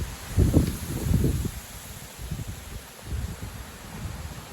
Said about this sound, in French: L'arbre qui mange bien les bourrasques.